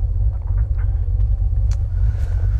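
A Ford Mustang on a short drive, its engine and road rumble a steady, loud low drone throughout with no talk over it.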